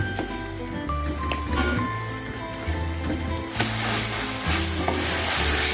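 Tomato puree masala with turmeric frying in oil in a pan for a chicken curry, a steady close sizzle and crackle that grows louder partway through, with stirring scrapes and low voice sounds underneath.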